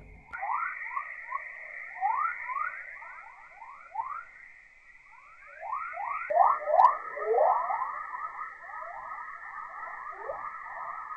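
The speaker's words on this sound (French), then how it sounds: "vous entendrez les sons des ondes radio émises par la Terre projetées dans l'atmosphère" Eerie electronic chirps and whistles sweep downward in rapid repeated bursts over a steady high tone, like a chorus of alien birds, with no voices; sonified radio waves emitted by Earth into the atmosphere.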